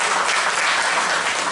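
Loud, dense audience applause at a Hindi kavi sammelan poetry gathering in Roorkee, a thick continuous burst of many hands clapping close to the microphone with no break.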